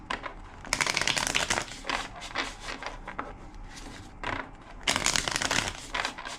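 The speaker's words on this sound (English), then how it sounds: "Two more shuffles." A deck of tarot cards is shuffled by hand in repeated bursts of crisp riffling and rubbing, close and fairly quiet, with short pauses between passes and no talking.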